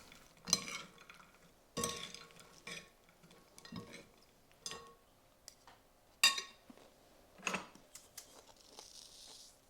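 A salad with crispy chickpeas and dressing is tossed in a bowl, close, with separate bursts of rustling and clinking about once a second between quiet gaps, no voices.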